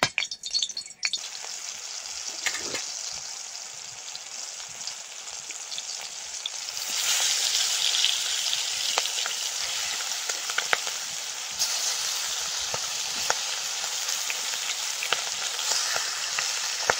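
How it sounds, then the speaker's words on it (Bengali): Fish heads fry in oil in a kadai, giving a continuous bright sizzle with scattered pops. The sizzle grows louder and denser partway through and stays steady, close and alone. "কড়াইতে তেল দিয়ে মাছের মাথাগুলো ভেজে নেব।"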